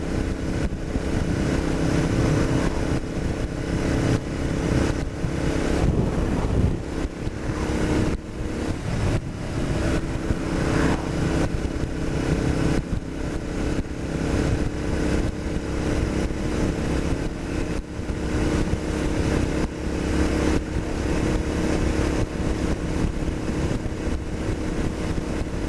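Royal Enfield Interceptor 650 motorcycle ridden at the speed limit under 4,000 RPM, a steady loud engine drone with heavy wind rush for the whole stretch, no speech.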